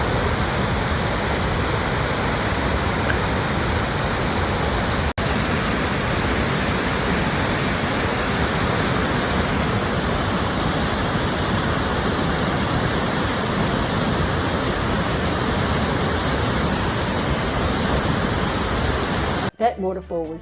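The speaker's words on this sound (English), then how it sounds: "That waterfall was beautiful." A waterfall near Mendenhall Glacier in Juneau roars as one steady, dense rush of falling water, loud and close for the whole stretch, with a brief knock near the end.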